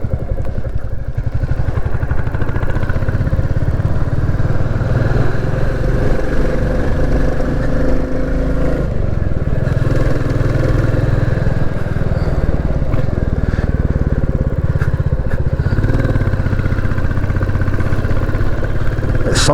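Royal Enfield Classic 350 motorcycle ridden through Cornish coastal roads, a loud, close, continuous low engine thump and chug with slight shifts in pace as it pulls uphill.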